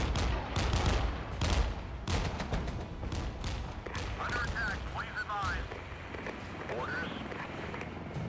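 Artillery fire in the Regiments war video game: a dense run of loud booming blasts and crackling gunfire, heaviest early then thinning, with a voice talking over the later part.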